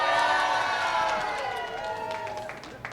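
A crowd gathered by a skydiving wind tunnel during a four-way formation competition cheers and murmurs in a steady wash of voices, with a few brief claps and whistles rising out of the din.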